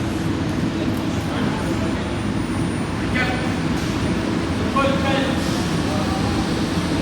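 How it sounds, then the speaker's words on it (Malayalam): Dubai metro train arriving at the airport station, a loud continuous rumble and hiss of the train filling the platform, with faint chime-like tones rising above it midway. "മെട്രോ വന്നിരിക്കുകയാണ് മെട്രോയിൽ കയറിയിട്ട് പോകണം"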